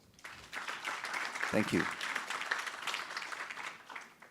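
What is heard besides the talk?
audience applause welcoming a panel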